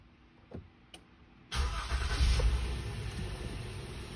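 A 2019 Honda Ridgeline RTL engine cranks and catches after a couple of faint clicks, then settles into a steady, fairly loud idle.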